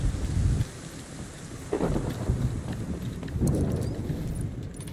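Rain in the video game The Division 2, a steady broadband hiss with low rumbling swells, loud and close, filling the whole stretch without talk.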